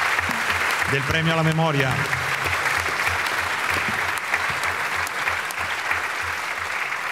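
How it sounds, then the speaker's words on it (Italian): Audience applause fills an award ceremony, the International Award Vexillum G. Sciacca, as dense clapping that continues throughout while a voice speaks briefly over it near the start. "gli rivolgiamo un applauso perché è lui il vincitore"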